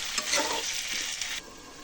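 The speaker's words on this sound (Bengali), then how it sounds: "পরিমাণ মতো নুন দিয়ে 1 মিনিট ভাজে নিয়ে" Potato and spinach saag frying with salt in a pan: a brief bright sizzle with stirring scrapes, loud at first, then settling into a quieter steady hiss for the last half second.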